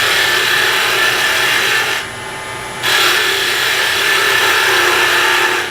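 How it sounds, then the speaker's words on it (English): Shallow fluted gouge cutting a spindle of wood on a lathe for furniture turning, a steady close-up rasping hiss that breaks off briefly partway through, then resumes at full strength, with no talking. "I'm going to go back to the the shallow fluted gouge"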